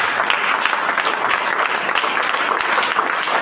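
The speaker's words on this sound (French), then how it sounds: "Acclame très fort." Loud, sustained applause from a church congregation during a French-language sermon, a dense continuous wash of clapping with no clear breaks.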